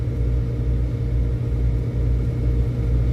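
A car accelerates hard on a road right beside a dash-cam vehicle, and a loud, continuous low engine rumble swells and fades slightly over a few seconds.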